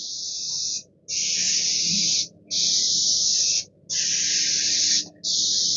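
A paint spray gun coats the face of an MDF panel in five loud, even hissing bursts of about a second each, separated by short silent gaps, with a faint click at the end.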